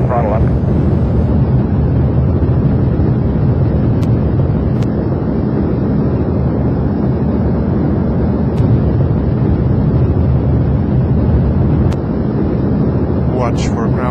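Delta Glider spacecraft in the Orbiter flight simulator, with a steady loud roar of rocket engines firing at ignition and launch that holds evenly throughout, accompanied by a few faint clicks.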